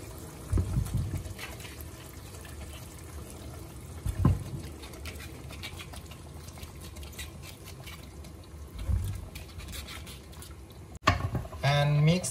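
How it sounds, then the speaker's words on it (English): Cauliflower being added to a cooking pot of fish curry, with a few wet splashes and stirring clatters over a low, continuous background. "Now I add cauliflower."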